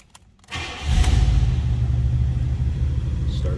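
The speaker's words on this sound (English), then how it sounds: "Start up that 5-liter." A 1985 Buick LeSabre's 5-liter V8 engine cranks and catches after a short quiet moment, then settles into a deep, steady rumbling idle close by.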